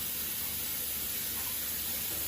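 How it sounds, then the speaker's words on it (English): A faucet running steadily into a sink while hands are washed, a continuous close even hiss of water with no talk. "I'm gonna wash my hands up real quick."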